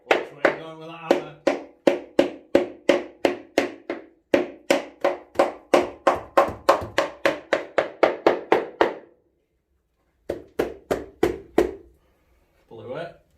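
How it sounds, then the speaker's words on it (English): A hammer strikes metal during restoration of a Ferguson TE20 tractor, dozens of sharp, evenly spaced blows in quick rhythmic runs with brief pauses between bursts, close and loud, with short talk near the start. "Which way are you going with that hammer?"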